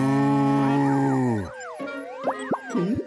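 Cartoon cow lows with a long, loud, steady moo, then breaks into a string of wobbling, bouncy cartoon boing and plop effects, as a farmer hypnotises dairy cows to make sweeter milk.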